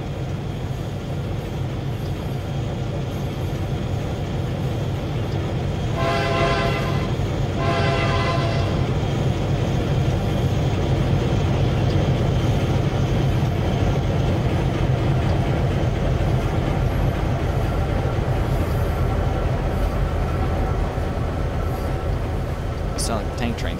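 A train rumbles along steadily in a railroad-building video game, with a continuous low drone and two short horn blasts partway through.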